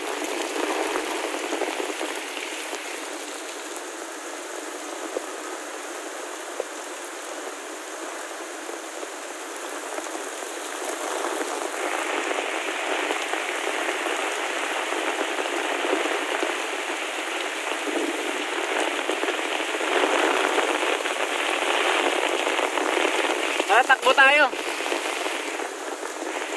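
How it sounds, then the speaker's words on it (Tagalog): Heavy rain pours down steadily in a dense, hissing wash beside the flooding Marikina River, with voices calling out briefly over the downpour. "Grabe yung ulan."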